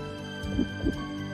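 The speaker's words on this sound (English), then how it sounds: "Millions of them work together to give us a heartbeat." A heartbeat thumps low and soft, two muffled beats about a quarter second apart over a steady hum.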